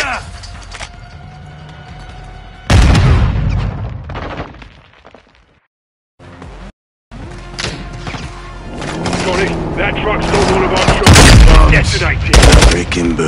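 Gunfire bursts and a heavy truck detonation boom in the Call of Duty MWII campaign, loud and close, with a roaring blast midway, a brief dropout, then continued rattling fire and crashing debris.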